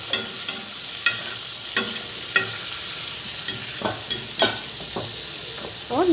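Fish shallow-frying in a pan while the pieces are turned to cook the other side, a steady bright sizzle broken by several sharp clicks and scrapes of a spatula, close up.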